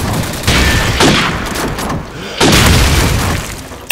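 M40A3 bolt-action sniper rifle in Call of Duty 4, two loud, sharp booming shots about two seconds apart, each ringing out into a broad noisy tail over dense game ambience.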